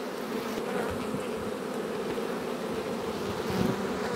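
Dense honeybee buzzing from an opened, strong colony in an April apiary hive, a steady close-up drone of many bees without pause and no voices.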